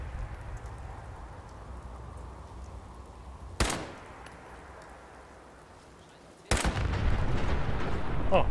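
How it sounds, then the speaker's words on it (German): Gunfire and explosions in the video game Fallout 4, two sharp loud blasts a few seconds apart over a low rumbling background, the second followed by louder sustained noise. "Hat die Bombe getroffen."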